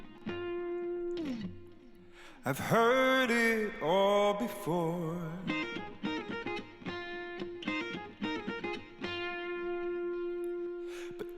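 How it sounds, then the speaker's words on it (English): Short distorted electric guitar parts fill the gaps in a song, with bright effects-heavy licks and sliding notes sitting over a steady backing, and a sung line passing between them. "I didn't want to do a line, so I did some guitars in the gap"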